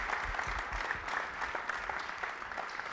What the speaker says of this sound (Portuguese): Vamos dar uma salva de palmas aos três participantes.